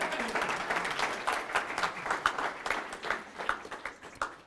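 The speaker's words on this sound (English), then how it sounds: "Y'all can clap." Audience at a business lecture clapping, a fairly faint, uneven patter of hands from a smaller crowd, rising and falling in bursts.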